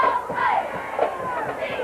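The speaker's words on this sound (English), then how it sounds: "Tech brought a good crowd with them, as they always do" Crowd of Tech fans cheering and shouting steadily in the stands at a 1993 high school football game, Pocahontas vs GCT, a broad continuous roar with rising yells throughout.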